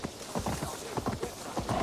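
Rhythmic hoofbeats of a stag mount in the game Assassin's Creed Valhalla, a quick repeating gallop of soft thuds, moderately close and steady, with no voices.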